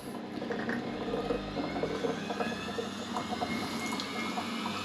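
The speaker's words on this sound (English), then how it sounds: "A couple of jugs of hot water, and then I turn it back on." Hot water pouring and swirling through a cream separator during cleaning, a steady close gurgling rush of liquid with faint mechanical whir underneath.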